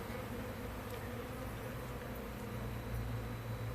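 Honeybees swarming inside a shed, a dense continuous buzzing hum heard close and fairly faint, steady throughout with no voices.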